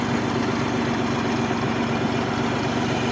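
A Scout 254 small tractor engine idles steadily nearby, a low, even chugging rumble that holds constant throughout with no speech.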